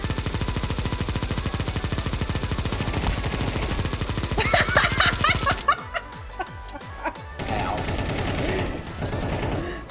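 Rapid automatic gunfire from a video game shooter rattles in dense bursts that break off partway, with scattered shots and game effects after, while players talk and laugh over it.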